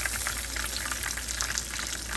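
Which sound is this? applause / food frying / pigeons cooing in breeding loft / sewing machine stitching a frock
food frying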